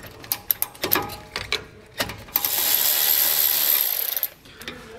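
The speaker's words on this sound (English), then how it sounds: "we're going to need to remove this by using a 10 millimeter socket" Ratchet with a 10 mm socket loosening a bracket bolt during installation of air helper springs on a 2020 vehicle, quick clicking bursts followed by a sustained buzzing ratchet spin, close and clear.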